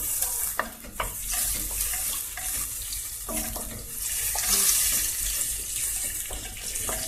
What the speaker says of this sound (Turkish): Şimdi güzel bir şekilde yağımızı eritiyoruz.